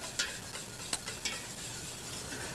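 Oil and egg yolks whisked together in a bowl for cake batter, a steady wet stirring with a few sharp clicks of the whisk against the bowl, close and even throughout with no talking.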